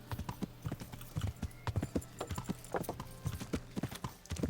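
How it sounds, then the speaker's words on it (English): Horse hooves clip-clop in a steady trotting rhythm while riding in the medieval game Kingdom Come: Deliverance, with crisp repeated hoof strikes close up and no talking. "The game makes horse riding feel really good."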